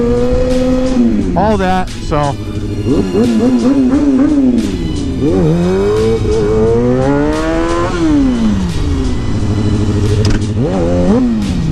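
Motorcycle engines rev and rise in pitch again and again on a city street near a college campus during wheelies, loud and close, with throttle sweeps climbing and falling under a person talking briefly.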